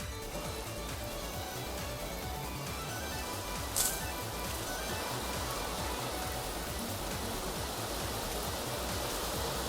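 Steady spray of water from a BLASK No.13 shower head, a constant dense hiss of fine droplets running throughout with no talking.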